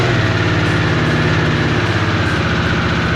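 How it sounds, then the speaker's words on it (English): A Harley-Davidson Sportster S engine runs just after startup with a loud, close, steady idle and a rapid mechanical clicking clatter over the low throb, heard alone. "the engine makes that weird little clickety clattery noise whenever you first turn it on"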